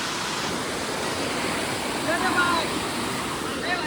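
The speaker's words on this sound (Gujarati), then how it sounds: "અહીંયાથી મસ્ત પાણી આવી રહ્યું છે" A monsoon-season waterfall where people bathe roars as a steady, dense rush of falling water, loud and close, with no pauses.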